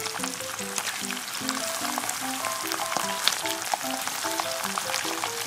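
Seafood and garlic sizzle and crackle steadily in hot oil for ajillo, a dense continuous frying hiss with scattered pops and spits, close and loud with no talking.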